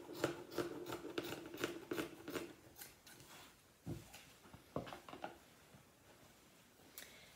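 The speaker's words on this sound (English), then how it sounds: "just cut directly across the sleeve" Scissors snipping straight across a T-shirt sleeve in a series of short crisp cuts, close and fairly quiet, slowing to occasional snips toward the end.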